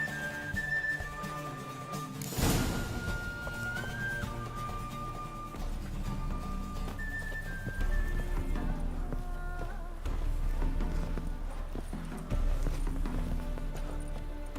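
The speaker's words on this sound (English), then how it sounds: "Can't decide between the black stallion and the grey mare." Hooves clip-clop at a steady walking rhythm in a video game scene with a black stallion and a grey mare, set against continuous game music with whistle-like melodic tones; no clear neigh stands out.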